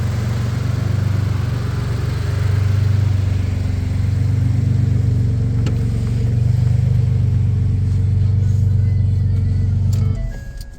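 A 2011 Ford F-150 3.5 EcoBoost truck fitted with a Banks exhaust, intake and tune runs with a steady, loud low drone for about ten seconds, then cuts off abruptly.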